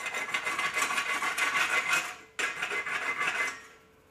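Steady metallic rasping and scraping along the toe of a SMAW stick weld after the slag is chipped off, likely a wire brush or file on steel, continuous with a brief break near the middle and fading at the end; no talk.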